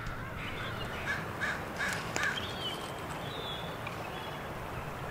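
A leucistic crow caws at a beach, four quick harsh calls in a row, moderately distant, over a steady wash of wind or surf noise.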